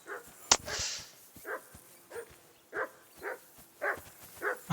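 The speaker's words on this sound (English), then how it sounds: "that barking's driving me nuts." A dog barks repeatedly at a steady pace, sharp and mid-distance, in the video game Kingdom Come: Deliverance 2, with a single loud click near the start and no talking.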